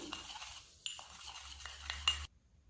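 A teaspoon clinks and scrapes against a small dish while stirring vinegar into baking soda, a few light, close metallic taps over a soft scraping, ending abruptly.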